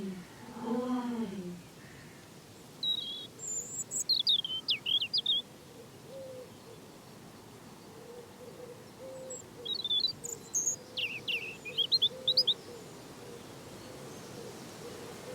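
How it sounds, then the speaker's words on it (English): A robin singing at dawn outdoors, with two bursts of high, thin warbling phrases separated by a quiet pause, fairly clear over faint background ambience and a low hooting call at the start. "Our first bird, a robin, early riser, fierce defender."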